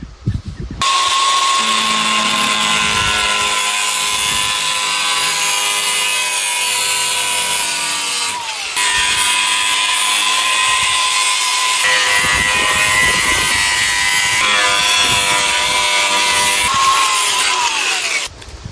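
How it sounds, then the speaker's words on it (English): An angle grinder with no guard cuts rotten car body metal in a loud, continuous high whine that runs nearly unbroken for the whole stretch, with one short pause and shifting pitch as it bites. "I don't always use the grinder, but when I do, I make sure there's no guard on it."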